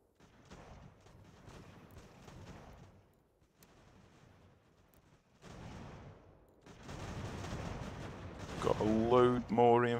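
Musket volleys ring out in the strategy game Ultimate General: American Revolution, a few scattered bursts of firing that grow louder and denser toward the end under a voice talking over them.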